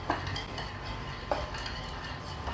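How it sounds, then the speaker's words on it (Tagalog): Kamote graham jelly mixture with evaporated milk being stirred in a bowl, a soft continuous swishing with two brief utensil clinks against the bowl, moderately faint and alone. "haluin lang natin siya ng mabuti"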